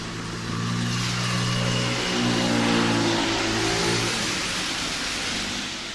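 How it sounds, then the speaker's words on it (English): An M60 Plus city bus in New York City drives along with a steady, loud engine drone and a smooth rise and fall of revs, heard from on board with no talk. "we'll get on the M60 Plus bus at Terminal B"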